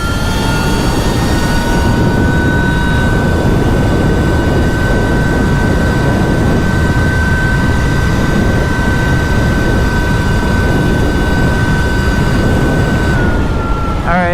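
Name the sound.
electric dirt bike Sur Ron clone at full throttle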